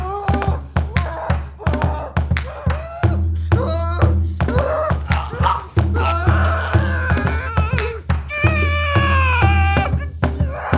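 A domestic cat meows and wails repeatedly at close range, drawn-out moaning cries mixed with sharp thumps and taps, loud over a low background hum.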